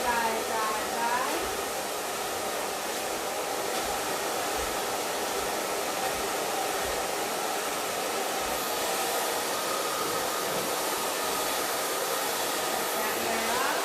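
A hair dryer blows steadily throughout as a paddle brush works through the hair, a continuous close broadband whoosh that never lets up.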